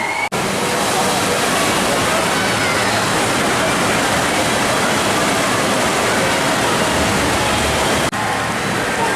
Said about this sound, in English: there's a tiny little drop underneath this bridge, and then a massive wave comes over